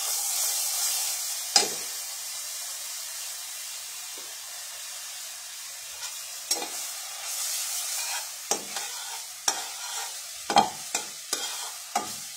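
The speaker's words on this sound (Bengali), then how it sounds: "এখন একটু বাটার দিয়ে দিচ্ছি" Butter sizzles in a pan of chicken fried rice, a soft steady hiss punctuated by repeated scraping clicks of a spatula stirring, more frequent toward the end.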